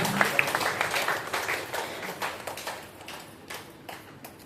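An audience at a training session claps in scattered, fairly faint applause that thins out and fades over a few seconds.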